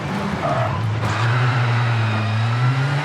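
A rally car in the V-Rally 4 video game being thrown into corners, its engine revving loud and close with a steady rising drone and brief shifts in pitch, no speech.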